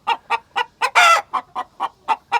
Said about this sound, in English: in those 2 milk crates, there's 2 chickens each.